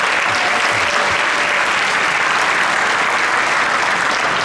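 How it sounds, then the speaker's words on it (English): A crowd gives Kareem Muhammad a round of applause at a city address, with dense, sustained clapping holding steady and loud from start to finish. "Everybody give Kareem a round of applause."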